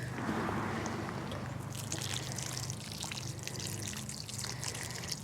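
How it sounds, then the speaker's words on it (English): Water pours and trickles onto soil around newly planted garlic and onions, a faint, steady splashing with a soft patter of drops. "The watering in is just to settle the soil around them so there's no air pockets"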